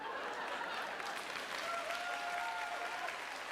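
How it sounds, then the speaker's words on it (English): Crowd applause with scattered cheering, a continuous even roar of many hands clapping at moderate level, with a faint whistle-like tone partway through. "And the crowd goes wild."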